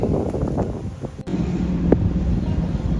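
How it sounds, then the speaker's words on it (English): Wind gusts buffet the microphone outdoors in a steady, rumbling roar that barely lets up, with no voices heard. "that wind is getting up and it's quite cool again"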